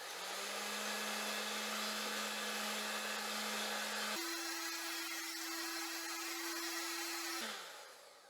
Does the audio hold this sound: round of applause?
no